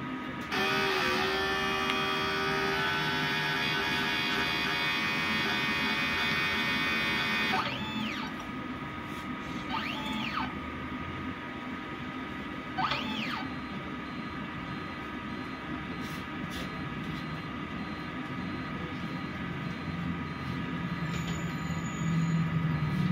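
A DTF printer in a print shop runs a print head cleaning cycle: a steady machine hum with a dense layer of tonal whine that drops out partway, followed by several short rising-falling motor sweeps at a close, even level.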